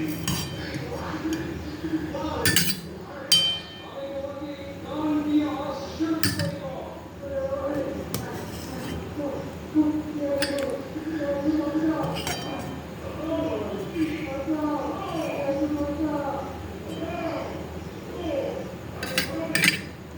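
Home-cooked food of roti, fried potatoes and chhana dalna is served with clinks of spoons, dishes and pans at close range, some sharp knocks standing out, while a person talks throughout.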